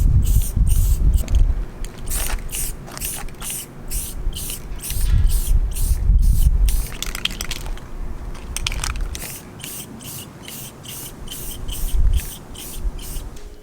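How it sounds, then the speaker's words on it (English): Car bumper pieces for a Civic Si are spray painted black outdoors. A can hisses in a rapid series of short, loud bursts, close by, with rustling and handling noises between the sprays. "I'm gonna spray all these things black"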